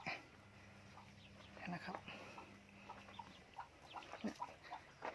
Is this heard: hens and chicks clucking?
yes